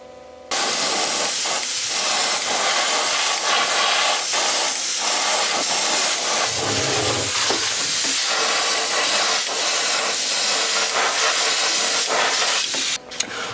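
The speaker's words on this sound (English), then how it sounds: "now I'm going to spray scales on the outside of the same inside pieces" A continuous, close airbrush hiss spraying Badger Ghost Tint Green paint onto a plexiglass fishing lure, steady and loud for several seconds before cutting off abruptly near the end.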